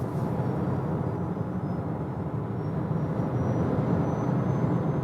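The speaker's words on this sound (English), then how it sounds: "And now motorway, acceleration 80 to 120 kilometers an hour with the front wheel drive." A Volvo EV with front-wheel drive accelerates from 80 to 120 km/h on a motorway, heard as a steady, dense roar of wind and tyre noise with no engine note.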